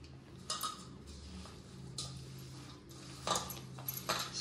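Chillies and onions being mixed in oil in a pan for chicken curry, with scattered metallic clinks of a spoon against the pan over a faint low sizzle, quiet and close.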